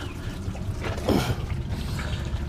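Water rushes and gurgles through an aquaponics bell siphon in a steady flowing trickle, with a brief louder surge in the middle, heard close without talk.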